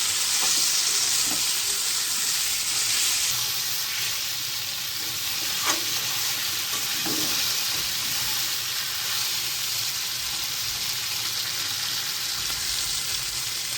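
Ground cumin and red chili paste frying and being stirred in a pan, a steady close sizzle and hiss with occasional scraping taps, no talking.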